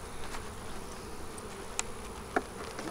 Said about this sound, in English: Okay, we have bees in the top.